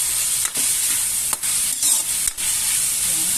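Chicken neck and gizzard frying in a pan for a chayote dish, a loud, steady close sizzle with brief dips where the pieces are stirred, no talking.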